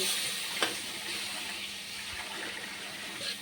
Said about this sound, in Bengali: একটু জল দিব, একটু জল দিব, জল দিয়ে এটাকে কষবো